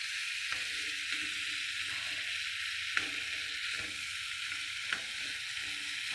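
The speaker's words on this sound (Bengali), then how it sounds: "এখন আমি জল দিয়ে দেবো।" Meat masala fries in a pan as water goes in, giving a steady loud sizzle with faint stirring clicks and a few sharper spits.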